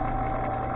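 A machine motor, probably a lathe with a belt drive running fast, hums steadily and evenly at close range for under a second, with no other sounds.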